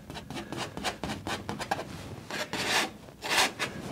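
Light scraping on an oil painting surface, a series of rhythmic rasping strokes close by, steady at first and then longer, stronger scrapes.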